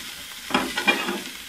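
Boiled chicken with capsicum stir-fried in oil, a short burst of loud sizzling and spatula stirring that rises suddenly after a quiet moment and pulses a few times.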